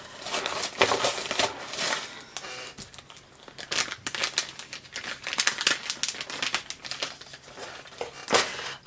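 A plastic pouch of unboxing extras, a bookmark and stickers, being opened and handled, with continuous close crinkling and rustling in irregular bursts.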